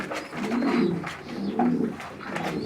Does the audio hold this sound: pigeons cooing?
yes